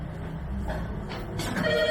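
A telephone rings with an incoming call indoors, its tonal ring rising out of a quiet room hum in the latter half, moderately faint and heard alone without talk.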